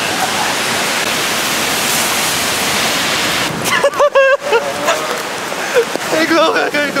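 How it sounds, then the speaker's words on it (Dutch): Steady hissing rain pours for a few seconds, then a voice speaks over the softer patter of falling drops. "En ik loop nu door de regen."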